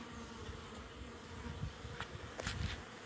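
Honey bees buzz steadily around a colony where hives sit close together, a continuous low drone with a few louder passes near the listener.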